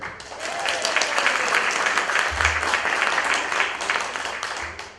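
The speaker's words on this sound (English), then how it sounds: "Please give a warm Bullabus round of applause for Stephen Masson and Clones" A community audience gives a warm round of applause for the Clones Theatre Group, sustained clapping from a crowd close by, rising quickly and holding steady for several seconds before easing off.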